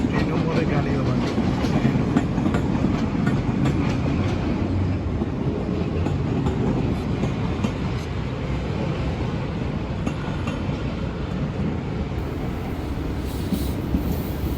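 A train rumbles steadily through a level crossing in Bilbao, Spain, its rolling clatter filling the whole stretch at close range with faint voices and street noise underneath.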